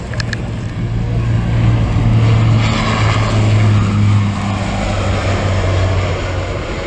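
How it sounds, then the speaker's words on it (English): A C-27 Spartan turboprop transport passes at an airshow, its loud steady propeller drone with a low tonal hum swelling toward the middle and easing off, with no talk over it. "So we have the C-27 Spartan coming through"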